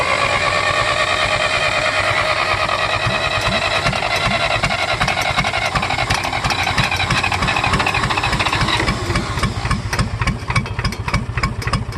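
Cold-starting John Deere engine cranks over and runs: a loud, steady mechanical rumble with rapid rhythmic pulsing throughout, close up, roughening slightly toward the end, with no talking.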